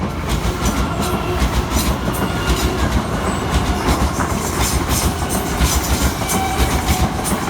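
A slow non-stop train rolls steadily through the Shepreth station level crossing close by, with continuous loud rumble and rhythmic clickety-clack of wheels over rail joints throughout.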